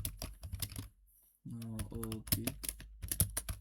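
Quick bursts of typing on a computer keyboard, close clicking keys with a brief pause, while someone speaks over part of it.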